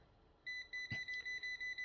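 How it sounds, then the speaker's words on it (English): An electrical continuity tester beeps in a steady run of short, evenly spaced high electronic beeps while checking a wire for current, close and clear, with a brief click partway through. "As long as you see it beeping, there's electricity."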